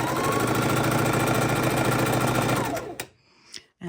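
Sewing machine stitching quilt borders, a fast steady mechanical whir with rapid needle rhythm for nearly three seconds that stops abruptly, followed by a couple of small clicks and handling noises, close and loud.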